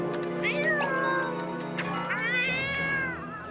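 Cartoon cat meowing and caterwauling in a series of drawn-out, wavering yowls, fairly close and prominent, with overlapping vocal tones and no clear talk.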